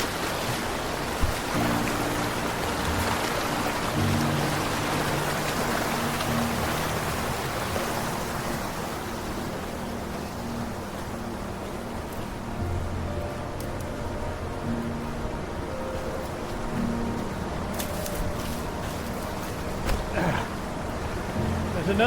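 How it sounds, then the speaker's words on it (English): A big waterfall in Mill Creek's canyon narrows in the Angeles National Forest sends up a steady broadband rush of falling water, constant and fairly close, with faint low tones beneath. "There's another big waterfall"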